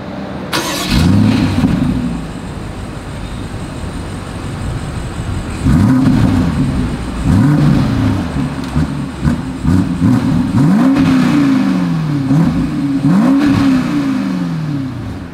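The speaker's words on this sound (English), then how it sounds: "As always, here is that exhaust clip." Exhaust of a 2023 BMW X5 with satin chrome tips revved repeatedly, several loud rising and falling blips separated by brief idle lulls, up close with no talking.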